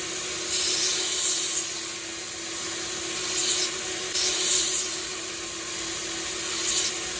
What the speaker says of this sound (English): So let's get this one ground.